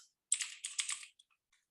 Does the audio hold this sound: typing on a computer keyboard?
yes